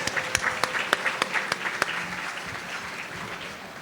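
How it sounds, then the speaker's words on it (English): Applause at a Brooklyn Chamber of Commerce annual meeting, a moderate wash of clapping from the audience with a few sharp, distinct claps standing out near the start, heard from some distance. "So let's give Rick a round of applause and all of our board of directors."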